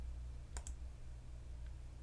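Quiet computer clicks from a mouse double-click and a spacebar press come as a quick pair of sharp taps, then one fainter tap a second later, over low room hum.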